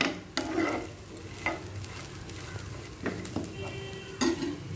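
Grated coconut sautéing in a pan for potato paalcurry, a soft steady sizzle broken by several sharp scrapes and taps of a spoon against the metal, close and alone with no voices.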